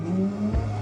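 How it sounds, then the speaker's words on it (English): A pedal-triggered speaker in a car museum plays a simulated revving engine of a Porsche GT3 RS, a loud, sustained engine drone that climbs and surges briefly, heard alone. "There's also a cool thing where you could like pretend to rev one of their cars."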